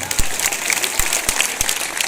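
A rally crowd applauds Manoj Tiwari with loud, dense clapping from many hands, steady throughout, punctuated by a few sharp low thumps.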